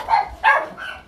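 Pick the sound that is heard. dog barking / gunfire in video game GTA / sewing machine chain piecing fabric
dog barking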